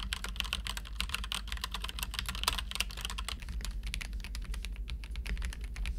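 Rapid typing on Dark Project One and DPP98 mechanical keyboards, a dense run of crisp clicky keystrokes over several seconds, close and moderately loud with no talk.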